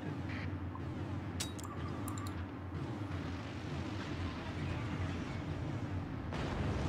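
Massed artillery in the Forts war strategy game fires in a loud, continuous barrage of booming blasts and rumble, with sharp cracks over the dense roar throughout.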